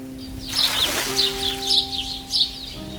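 Birds chirp in a Pingu cartoon, with a string of bright, quick tweets repeating over soft sustained musical tones, no talking.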